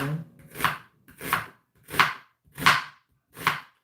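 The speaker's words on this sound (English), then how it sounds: "And I'm doing the coarse chop because I kind of like a chunky soup." A knife coarsely chops an onion on a cutting board: five firm, evenly spaced chops, close and clear, with no talking.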